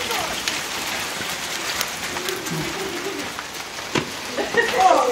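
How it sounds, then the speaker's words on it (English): Steady rain and hail pattering on a surface close by, with a few sharper impacts and some brief movement noises near the end. "It's freaking wet with hail."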